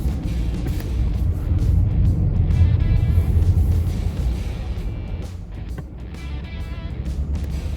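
A Corvette C8 3LT in sport mode rumbles steadily from inside the cabin, a low continuous engine drone that swells slightly and then settles, with no one talking.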